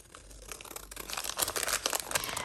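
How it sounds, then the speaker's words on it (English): Scissors cut through a paper envelope up close, a quiet rustling, crinkling rasp with short crisp snips that grows busier and louder through the second half, with no voices. "So I'll just cut this, and yeah, I think I'll just cut this off."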